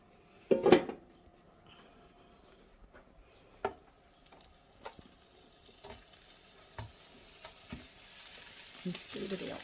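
Pork frying in a pan on a stove for a slow-cooked pork curry: a steady faint sizzle that swells toward the end, with a few sharp clatters of the pan or utensils scattered through it.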